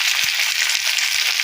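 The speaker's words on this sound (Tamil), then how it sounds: "நல்லா எண்ணெயில் பச்சை மிளகாய் நல்லா வேகணும்" Green chilies frying in hot oil for a tamarind chili dish, a steady bright sizzle that holds evenly throughout with a few faint soft knocks beneath.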